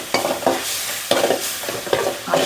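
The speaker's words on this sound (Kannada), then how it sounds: "ಈ ಟೈಮಲ್ಲಿ ಸ್ವಲ್ಪ ಹಾಲು ಹಾಕಿ ತಿರುಗಿಸ್ಬೇಕಾಗುತ್ತೆ" Puffed rice upma being stirred in a pan right after milk is poured in, a spoon scraping through the mixture in repeated strokes roughly every half second over a soft steady sizzle, close and clear, with no talking.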